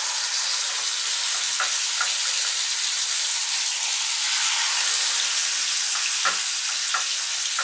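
Vanjaram fish sizzles in hot oil in a kadai, a steady close frying hiss broken by a few sharp pops and spatters.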